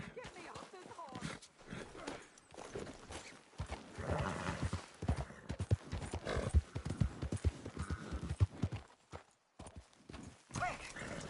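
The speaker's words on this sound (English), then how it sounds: "Get me off this horse!" Horse hooves clip-clop in Red Dead Redemption 2 gameplay, a steady trotting rhythm running through the whole stretch beneath game voices shouting about a kidnapping.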